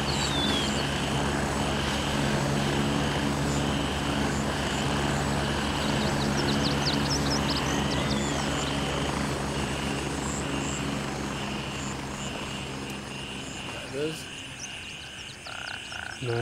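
An enemy helicopter coming in to land in the video game Gray Zone Warfare, a steady droning rotor roar under a dense chorus of croaking frogs, loud and constant before easing slightly toward the end.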